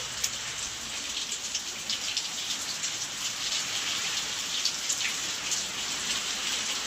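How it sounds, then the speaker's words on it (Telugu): Steady rain pours down outdoors, a continuous dense hiss of drops with no voices, even and moderately loud throughout. "వర్షం చూడండి ఎలా పడుతుందో బయట ఇప్పుడు"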